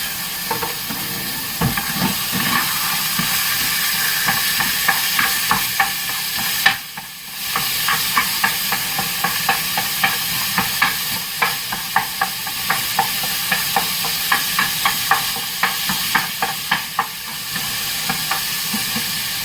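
Beef and rice for chimichangas cooking together in a pan, a steady close sizzle and frying hiss with a rapid series of sharp scraping stirs, briefly interrupted midway, no talking.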